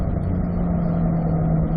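Car engine droning steadily at moderate revs in fourth gear on a Spring Mountain track drive, a loud continuous in-cabin hum with a constant tone and no voices.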